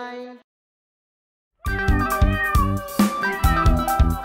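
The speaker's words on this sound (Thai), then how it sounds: "เด็กๆเธอได้ยินเสียงลูกแมวน้อย3ตัวไหม" Kittens meowing in a children's cartoon: one short, high mew, a pause of silence, then a busy run of repeated meows over a bouncy musical backing.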